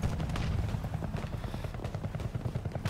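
A helicopter in the video game Battlefield 2042 drones steadily with a dense low rotor rumble, joined by scattered combat noise and faint bursts of gunfire.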